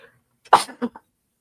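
A single sharp, explosive burst from a person in a quiet room, close and loud, with a brief trailing breathy tail afterward and no talk around it.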